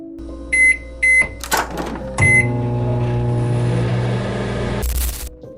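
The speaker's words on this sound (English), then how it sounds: "What would you do if you heard someone using the microwave late at night?" A microwave oven beeps a few times, then hums steadily while running, ending in a louder burst of beeps; no voices.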